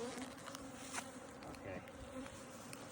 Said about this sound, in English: This is an aggressive hive.